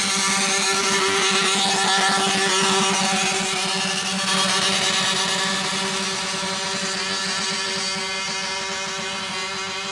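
Modified pulling tractor fitted with an R1 motor runs at sustained high revs, a loud, steady, buzzing engine roar that dips slightly partway through and carries on without a break.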